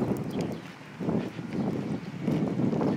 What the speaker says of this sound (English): It's just pure wind.